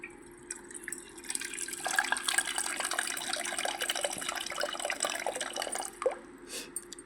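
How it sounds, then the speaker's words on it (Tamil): Water poured from a tap or jug into a pot for a Tamil herbal decoction, a steady splashing trickle close by with a soft low hum beneath, no talking. "தண்ணி ஊற்றிக்கலாம்."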